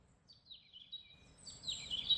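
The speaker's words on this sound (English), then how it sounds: "Listen, you can hear birds." Birds in the countryside chirp and trill in a few short, high calls, faint and somewhat distant over a quiet background, growing a little fuller toward the end.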